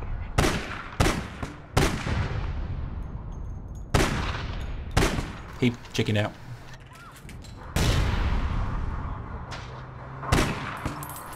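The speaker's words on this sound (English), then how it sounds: "I'm being sniped at." Gunfire in the online shooter APB Reloaded sounds as loud, sharp single shots and short bursts spaced across the scene, with a player talking briefly between the shots.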